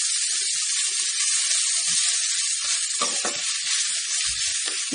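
Food sizzling and frying steadily in a pan while vada curry is sautéed, a continuous close hiss with a few light stirring clatters and no talk.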